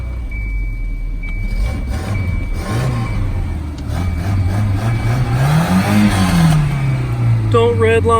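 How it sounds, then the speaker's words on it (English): A scrapped junkyard Volvo car revs after a cold start, the engine swelling and dropping in a rising then falling surge, close and loud, with a beeping tone partway through and voices talking over it. "Don't redline a cold motor."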